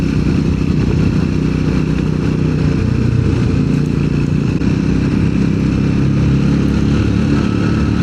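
A Triumph Scrambler motorcycle on a long-distance road ride hums with a steady, loud engine drone and heavy wind rumble, unbroken and with no talk.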